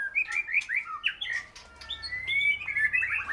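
Pet birds kept for breeding chirp and warble in a breeding room, a busy run of bright, overlapping tweets and trills that carries on steadily throughout, close and fairly loud, with a faint low hum beneath.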